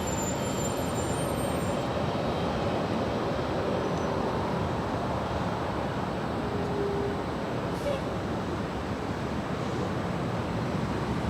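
A Delta airliner takes off from runway 24 left at LAX, a steady, loud, broad roar that holds evenly for the whole stretch with no voices over it.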